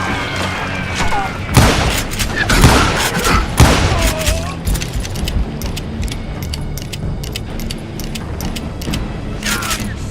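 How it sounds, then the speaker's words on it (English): Gunfire rings out in the Western shooter game Call of Juarez Gunslinger, with several loud, close bursts of shots and booms early on, then sparser, fainter shots over ambient noise. "We're under fire!"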